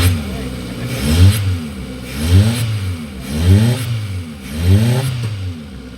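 A Kia Picanto engine with a misfiring coil and low power is revved repeatedly, about five rising, surging bursts at roughly one-second intervals, close and loud, with uneven clattering roughness.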